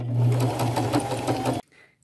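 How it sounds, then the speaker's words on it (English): Sewing machine stitching flaps for cargo jeans pockets, close and steady with a fast even needle rhythm for about a second and a half, then it stops abruptly. "I am just going to go to my machine, and on the underside, I'm just going to stitch those on."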